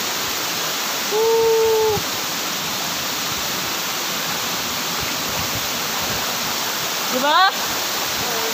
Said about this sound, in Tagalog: Hinguin Falls, Padre Burgos, Quezon.